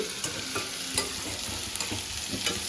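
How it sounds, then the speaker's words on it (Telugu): Chillies and turmeric frying in a pan, a steady close sizzle with occasional scrapes and stirs. "మిరపకాయలు బాగా వేయగలాక వేయించుకోవాలి"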